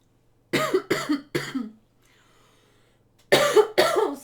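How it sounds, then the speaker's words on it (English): A person indoors coughs three times in quick succession, pauses in near silence, then coughs twice more, close and fairly loud. "I'm just going to get a drink because I keep coughing"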